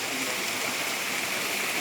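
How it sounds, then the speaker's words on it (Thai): A small forest creek flows continuously with a steady, even rushing of water, close by and uninterrupted. "เนี่ยห้วยที่แม่มาใช้น้ำตอนมาอยู่ใหม่ๆน่ะ"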